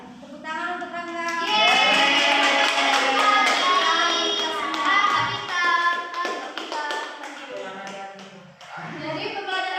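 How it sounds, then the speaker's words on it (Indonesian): A primary-school class of fourth-graders applauds a classmate, many hands clapping in a dense patter beneath loud, overlapping children's voices and chatter that carry through the whole stretch. "Tepuk tangan untuk Angga."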